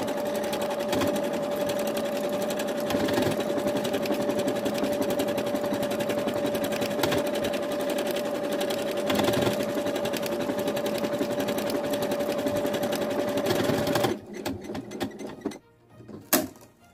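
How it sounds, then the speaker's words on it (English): A sewing machine stitches a standard buttonhole with a steady, close, humming whir for about fourteen seconds, then stops, leaving faint handling clicks and rustles. "I will start sewing."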